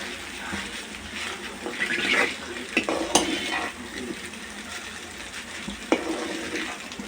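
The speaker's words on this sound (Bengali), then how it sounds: "তো লুডুসগুলো মিক্স করে নেব।" Maggi noodles being stirred into egg masala in a pan, a steady soft sizzle with scraping and clinking of the spatula at irregular intervals, close and moderately loud.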